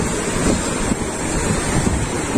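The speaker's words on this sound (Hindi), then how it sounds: "ये देखो इतनी तेज पानी आ रहा" Fast-flowing water rushes loudly near Palampur in Himachal, a dense, constant roar close to the microphone with some wind buffeting.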